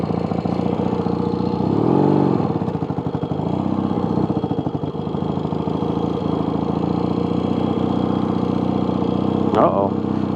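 A 1982 Yamaha XS650SJ motorcycle engine idles steadily up close after being restarted, a loud rhythmic putter with slight revving swells throughout.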